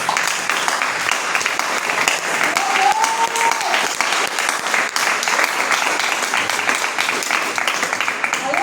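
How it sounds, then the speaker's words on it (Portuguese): Church congregation applauding continuously and loudly throughout, a dense steady wash of clapping from a crowd, with a brief faint voice surfacing partway through. "Vamos dar salva de palmas ao Senhor."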